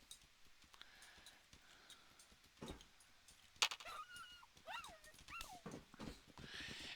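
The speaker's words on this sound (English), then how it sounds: "he gets on there no problem with the sad whimper" A dog's whimpering yelps in Fallout: London rise and fall in a few short cries amid clattering footsteps and background game sounds, near a train platform.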